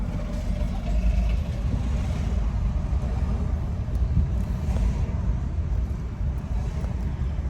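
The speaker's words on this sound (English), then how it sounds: "I'm driving." Steady low road rumble and engine drone fill the inside of a moving car, with faint wind noise and no clear talking.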